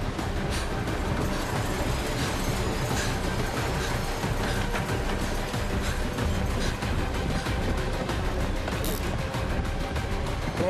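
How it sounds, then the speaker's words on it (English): A runaway train with no brakes rushes along in a movie scene, a dense, continuous roar of rumbling wheels and rattling cars at constant loudness, with scattered clanks and no voices heard. "Stop the train, Nick."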